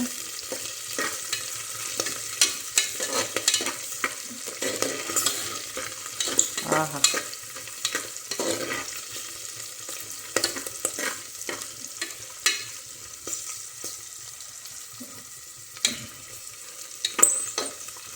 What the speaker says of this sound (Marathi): मटर ते झाले ना तेलामध्ये ते फुगलेत